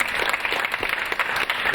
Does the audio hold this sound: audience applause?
yes